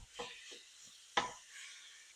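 Lean ground pork browns in a cast iron skillet, giving a faint, steady sizzle broken by a few soft scrapes and one sharper clack as the meat is stirred and broken up.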